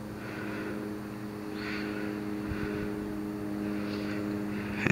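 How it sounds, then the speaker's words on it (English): Airplane passing overhead on a cloudy night, a low steady droning hum with faint rising and falling whooshes, distant and unbroken, no voices. "It's an airplane."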